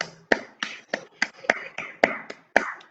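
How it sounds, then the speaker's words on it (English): Students in an online class clap in a quick, irregular run of about a dozen sharp claps, moderately loud and close, with no talking over them. "Clap for Maham and Shafi."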